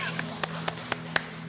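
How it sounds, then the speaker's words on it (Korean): Congregation clapping in church during a Korean Thanksgiving Sunday worship service: a few distinct, evenly spaced claps, sharp and moderately loud, over a steady low hum. "하나님께 감사의 박수 드리겠습니다"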